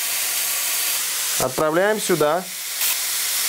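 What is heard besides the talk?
meat sizzling as it is fried in a pan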